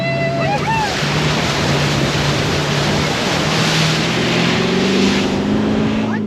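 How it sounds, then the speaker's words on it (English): A vehicle on a remote Arnhem Land track ploughs through a water crossing, making a loud continuous rush of splashing water and wind buffeting over a low engine drone. "here's a water crossing."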